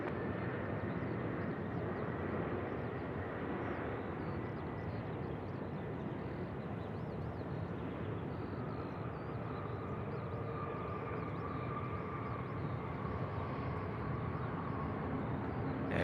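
A Singapore Airlines airliner at Sydney Airport gives a steady, distant broadband roar of jet engines that holds evenly throughout, faint and continuous, with no voices over it.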